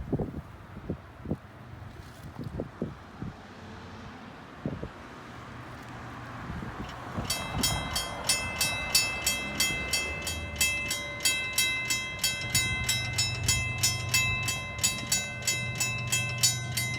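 A freight train rolls through the Pefferlaw Road level crossing without sounding its horn, wheels clacking in a steady rhythm as it passes close by while the crossing bells ring bright and repeatedly over the rumble.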